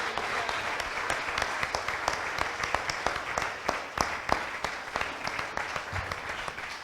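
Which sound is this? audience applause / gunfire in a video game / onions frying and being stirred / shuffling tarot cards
audience applause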